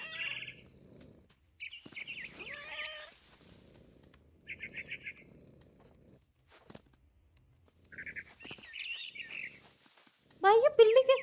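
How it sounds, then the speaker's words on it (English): A frightened bird chirps in What Remains of Edith Finch: short bursts of high tweets come and go, with a louder flurry of calls at the end, while a person talks in between. "I tried to be quiet, but the bird was really scared."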